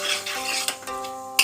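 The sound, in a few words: stirring cumin and bay leaves in a pan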